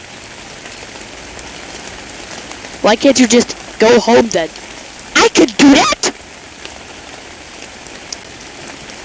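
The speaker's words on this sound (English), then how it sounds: "I can't escape the rain!" Rain falls steadily as a constant hiss of drops on a surface, while animated voices talk over it in short bursts.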